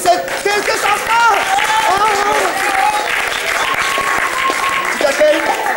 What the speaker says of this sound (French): On applaudit très fort le musicien qui nous a accompagnés